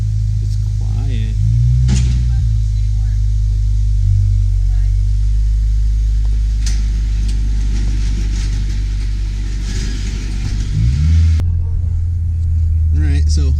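A Subaru WRX fitted with an Invidia exhaust cruises with a steady, mellow low engine rumble heard from inside the car, and voices are present beneath it.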